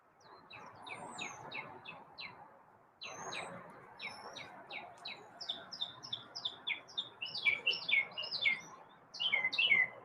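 Songbirds chirp outdoors in quick repeated bursts of high tweets, growing busier and louder toward the end over a soft background hiss.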